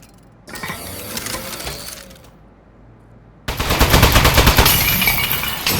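A turret fires in the video game Aperture Desk Job: bursts of rapid mechanical gunfire, a quieter rattling spell first, then a louder sustained volley that runs to the end, with no voices.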